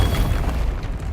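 Confringo fire spell from Hogwarts Legacy bursting in a heavy, low booming explosion that rumbles steadily through the short moment, loud and close with no talk over it.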